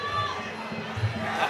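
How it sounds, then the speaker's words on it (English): Crowd at a fight event roars and cheers continuously, a dense mass of voices with a commentator talking over it. "Urging the crowd on, and the crowd are loving it."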